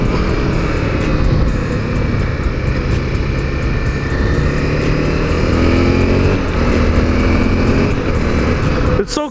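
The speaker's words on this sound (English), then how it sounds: "It sounds like a moped, bro." Honda CRF250L motorcycle being ridden, its engine droning steadily under heavy rushing wind noise, loud and continuous with the rider close by.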